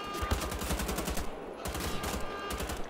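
Rapid automatic gunfire from a video game about shooting Nazis, a dense continuous stream of loud shots with a brief lull partway through.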